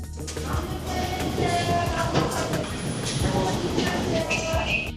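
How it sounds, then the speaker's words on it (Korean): A crowded Gold Line commuter train between Seoul and Gimpo rumbles loudly and steadily, with rail clatter and metallic squeals over a dense hum; faint voices mix into the background. "서울과 김포를 잇는 골드라인. 출근길은 여전히 지옥철에 가깝습니다."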